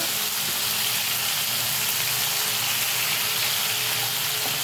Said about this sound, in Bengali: চিংড়ি মাছগুলো আমি হালকা করে ভেজে নেব।